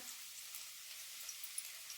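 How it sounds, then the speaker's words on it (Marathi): Soft, steady sizzle of cumin seeds crackling in hot oil for tempering, faint and continuous with tiny pops. "बघा हे जिरं फोडणीला"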